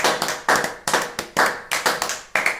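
A church congregation applauds in bursts of rhythmic clapping, loud and close, with a sharp onset roughly every half second and no talking over it.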